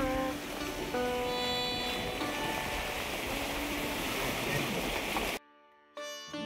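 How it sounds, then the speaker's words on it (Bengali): Steady broadband rush of water falling from a height near Cherrapunji on a rainy day, loud and continuous for several seconds before cutting out abruptly near the end. "দেখো ওইখানে একটা ওয়াটারফল, উপর থেকে জল নামছে।"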